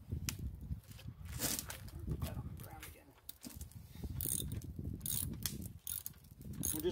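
Front strut bolts on a 2006 Nissan Sentra 1.8 SE are loosened with a ratchet, producing continuous close clicking and mechanical rattling that runs through the whole stretch.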